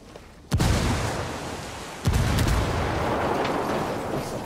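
A frag grenade detonates in the video game Ghost Recon Wildlands: two sharp, heavy blasts about a second and a half apart, each followed by a long, rumbling roar that holds loudly to the end.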